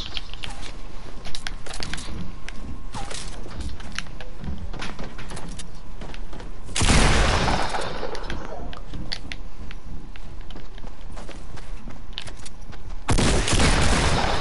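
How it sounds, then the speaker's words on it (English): Video game gunfire on PS4, a near-continuous crackle of rapid shots running throughout, with two louder heavy bursts of firing partway through and near the end. "And they're firing at will."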